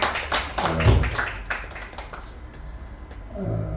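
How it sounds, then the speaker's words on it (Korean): Congregation clapping during a Korean children's Sunday church service, a brief scattered patter of hands near the microphone that fades to quiet, followed by soft low murmuring. "우리 박수 한번 쳐주시고"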